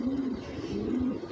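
A racing pigeon coos twice in soft, low, rolling calls, close and clear over faint background noise.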